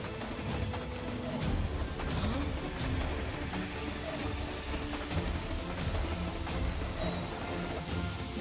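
A train rolling along its rails gives a low, continuous rumble and rattle with a faint hiss over it, steady throughout and heard from inside the train.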